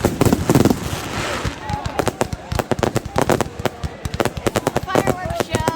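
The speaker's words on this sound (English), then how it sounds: "Fireworks show." Fireworks at an outdoor show burst in rapid irregular volleys of sharp cracks and booms, some clustered into crackling strings, loud and fairly close.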